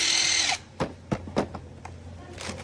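A cordless power drill whirs briefly at the start, then a few short bursts of tool clatter and handling noises follow.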